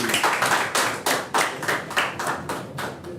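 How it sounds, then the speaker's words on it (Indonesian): A studio audience at a Jakarta jiu-jitsu talk show breaks into steady applause, a brisk run of overlapping hand claps that keeps an even rhythm for a few seconds with no talking. "Ya, kita beri tepuk tangan dulu buat Mas Dedi."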